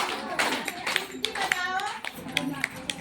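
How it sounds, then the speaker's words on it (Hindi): Young children clap their hands in rhythm during a classroom action song, sharp close claps scattered over continuous singing and speech from children and an adult. "मुझको ताली बजाओ"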